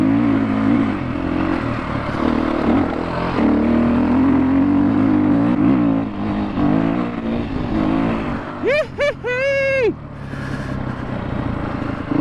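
A dirt bike engine drones steadily as it rides through a muddy section of trail, then revs up sharply several times near the end while the rider talks over the engine noise.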